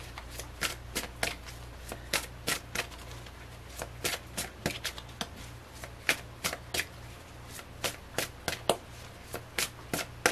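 Tarot cards are riffled and shuffled repeatedly up close, a quick run of crisp flutters in an uneven rhythm, with no voices.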